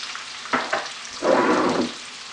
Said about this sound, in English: This chicken has been sauteing 5 minutes.